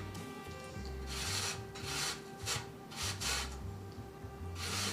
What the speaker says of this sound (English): you're just going to keep grating